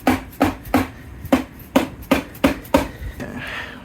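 A hammer gives light taps to a limited slip differential from a K20/K24 transmission, about nine evenly paced metallic knocks in a few seconds, close and clear with a short ringing decay after each strike.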